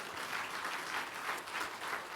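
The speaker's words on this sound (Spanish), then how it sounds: "Denle un fuerte aplauso al Señor." A church congregation applauds together in a steady, dense burst of clapping that fills the room evenly and stays alone without talk.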